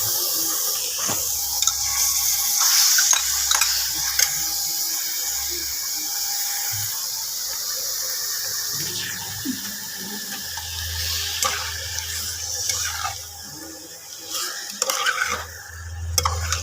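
Large pieces of marinated chicken for a chicken rezala sizzle steadily in a pan, a continuous hiss with scraping stir strokes and occasional clinks throughout, no talking.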